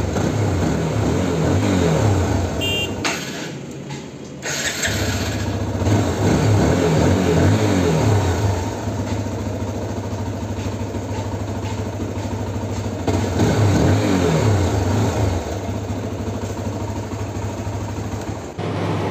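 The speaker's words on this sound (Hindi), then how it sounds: "अभी मैं बाइक को चला रहा हूँ कोई प्रॉब्लम नहीं है" A BS6 motorcycle engine runs steadily at an even idle-like rpm, a continuous loud mechanical hum and putter with no misfiring or stalling, heard close up and alone.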